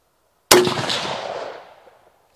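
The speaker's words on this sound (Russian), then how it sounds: "Выстрел." Single loud rifle gunshot from a .308 Win or 6.5 Creedmoor rifle at an outdoor range, a sharp crack followed by a long fading echo.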